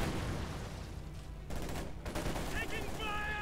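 Sturmgewehr assault rifle fire in the Company of Heroes 2 strategy game: bursts of rapid gunfire over dense battle noise, with a short lull midway and higher chirping effects near the end.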